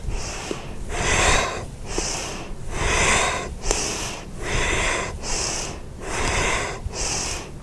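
Deep, audible breaths during a fast yoga heart-opener exercise, with airy inhales and exhales alternating in a steady rhythm of about six cycles, close to the microphone and with no talking.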